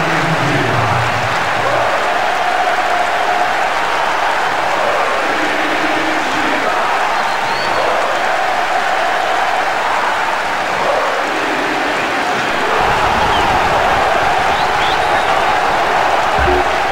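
Stadium crowd applause and cheering from the PlayStation 2 football game Winning Eleven 10, during a Brazilian league match between Corinthians and Coritiba. It is a steady, dense crowd roar throughout, with a commentator's voice talking over it.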